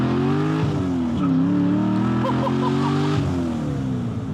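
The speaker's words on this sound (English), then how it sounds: "Give them a little bit of full throttle" LS V8-swapped widebody Porsche 911 at full throttle on a highway, a loud, steady, deep engine roar that rises and dips in pitch as revs vary, close and continuous throughout with no talking.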